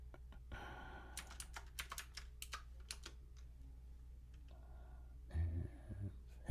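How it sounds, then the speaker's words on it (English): Keys clatter on a mechanical computer keyboard in quick, uneven bursts, close and fairly quiet, with a few brief pauses between flurries of typing. "people they claimed to like the sound of mechanical keyboards"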